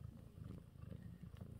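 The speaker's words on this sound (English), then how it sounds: "Big purrs." A mother cat purrs with a low, steady, rhythmic rumble while nursing her three-day-old kittens. The purr is close but quiet, and nothing else is heard.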